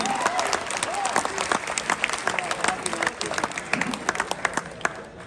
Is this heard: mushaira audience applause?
yes